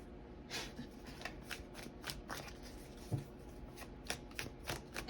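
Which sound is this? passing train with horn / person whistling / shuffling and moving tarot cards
shuffling and moving tarot cards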